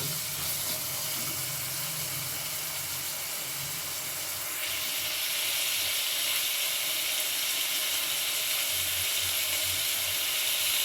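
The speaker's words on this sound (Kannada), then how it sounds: "ಚೆನ್ನಾಗಿ ಸ್ವಲ್ಪ ಫ್ರೈ ಮಾಡ್ತಾನೆ ಇರಿ." Food frying in a pan gives a steady, loud broadband sizzle and hiss that runs the whole time and grows slightly stronger partway through, with a low hum underneath and no voices.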